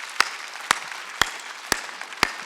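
Congregation clapping in rhythm during a church worship service, five sharp evenly spaced claps about half a second apart over a faint background.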